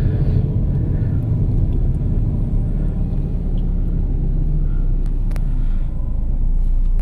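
A Proton Iris 1.6 car on the move, heard from inside as a steady, loud low engine and road rumble that holds evenly throughout with no voices.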